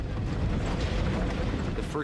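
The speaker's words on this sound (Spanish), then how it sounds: "De repente, una violenta explosión sacude el avión." A violent explosion rocks an airliner in a reenactment, a dense, loud, rumbling roar that fills the whole short moment with no break.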